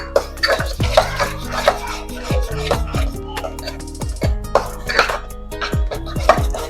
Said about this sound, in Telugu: దీన్ని ఇట్లా పప్పు గుత్తితో తనేస్తే పీసెస్ అన్నీ ఇందులోకి అయిపోతాయి